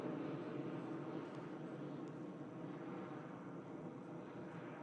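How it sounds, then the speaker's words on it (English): A Pilatus PC-12 NGX turboprop departs Manchester Airport, a steady, broad engine roar holding at moderate loudness throughout with no voices over it. "There goes the Pilatus PC-12 NGX, the latest edition of the PC-12"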